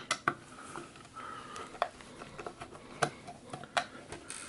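Small metallic ticks and clicks at close range as self-tapping screws are removed to open the case of a Time Machines TM604, irregular and fairly quiet.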